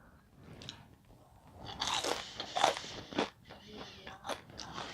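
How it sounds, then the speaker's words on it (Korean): Several loud, crisp crunches as a fried shrimp tail is bitten and chewed close up, irregular bursts with quiet chewing between. "꼬리 너무 바삭바삭하다"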